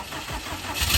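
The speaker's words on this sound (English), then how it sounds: "let's fire her up" A freshly built 600 hp Subaru WRX STI engine cranking and catching, a brief whirring start that rises into a louder rumble at the very end.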